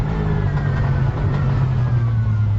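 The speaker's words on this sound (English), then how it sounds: "Nothing quite like a V8, is there? Throaty growl." Onboard sound of a V8 racing car in a 2009 FIA GT race at Oschersleben, driven in the rain: a steady, throaty low engine growl held close and loud throughout, with no talk.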